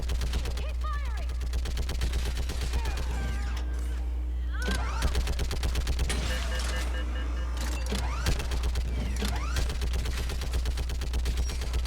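Rapid bursts of gunfire from the video game Mass Effect 3, with repeated firing and sharp impacts over a steady mechanical hum, mixed with battle noise and voices speaking throughout.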